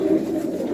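A pigeon coos close by in a low, soft, continuous murmur with no voices over it.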